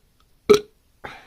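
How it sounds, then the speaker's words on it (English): A loud close burp after sipping Samuel Adams beer, one sharp belch followed a moment later by a second softer, drawn-out one, with no talking. "if I burp, it's a sign of a good beer"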